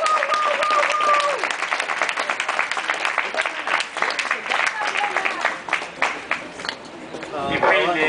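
An evening audience applauds an artist at a community event, clapping underlying someone speaking over a microphone, with a brief whistle-like tone early and crowd noise rising near the end.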